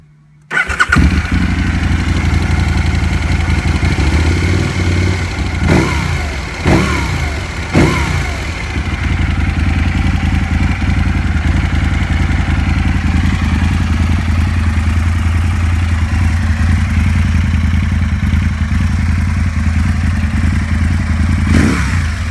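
A 2007 Aprilia RSV R motorcycle with an Akrapovic exhaust starts after a brief silence, then settles into a loud, close idle broken by a few sharp throttle blips before holding a steady rumble.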